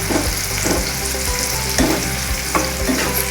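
Food fries in a pan with a steady, loud sizzle, while periodic stirring scrapes and clinks recur roughly every half second over a continuous crackling hiss, with no voices.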